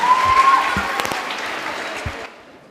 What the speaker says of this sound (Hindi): सो प्लीज़ अंसार के लिए तालियां बजाइए।